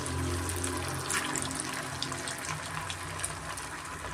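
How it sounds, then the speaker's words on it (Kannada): Rava vada, instant semolina fritters, frying in hot oil, giving a steady, dense sizzle with fine crackling that stays loud and close throughout. "ನಾನು ಮಾಡಿ ಇಟ್ಕೊಂಡಿದ್ದೀನಲ್ಲ ಅದು ಒಡೆನು ಎಣ್ಣೆಯಲ್ಲಿ ಬಿಡ್ತಾ ಇದ್ದೀನಿ"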